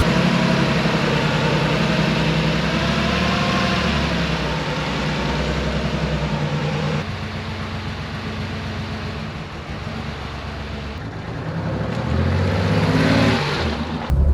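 A 1972 Porsche 911 Targa flat-six on triple carburetors idles close by, a steady rich burble with a slight dip midway and a brief rise near the end, with no talk over it.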